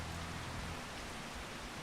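Rain falling in the video game Farming Simulator 25 makes a steady, dense hiss of drops at a constant faint level, with a low rumble beneath and no voices.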